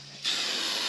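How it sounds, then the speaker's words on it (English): An aerosol can of weld-through primer sprays onto a car's outer rocker panel on a Firebird, a sudden close hiss that starts after a brief pause and holds steadily. "now I'm getting in here and getting some weld through primer put on this"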